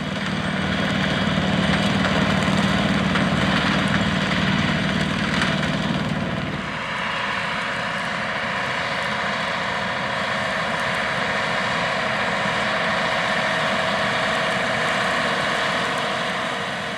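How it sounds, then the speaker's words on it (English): A heavy engine of a 470-horsepower John Deere 9470R articulated four-wheel drive tractor drones steadily for the whole stretch, a deep idling rumble that shifts to a rougher, lower tone partway through, with no voices. "It's operated by a 470 engine horsepower John Deere 9470R articulated four-wheel drive tractor."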